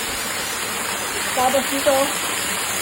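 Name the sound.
water flowing down a mountain wall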